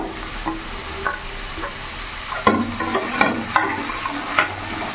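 Peas, cabbage and capsicum are stirred in a hot pan for vegetable soup, giving a steady close sizzle broken by a handful of scraping, clattering spatula strokes.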